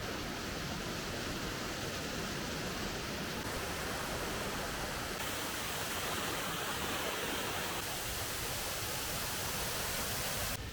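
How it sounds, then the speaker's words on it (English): A man-made waterfall in a Yorkshire forest near an old mill site gives a constant, dense roar of falling water, close and unbroken throughout with no voices over it. "the sort of man-made waterfall there."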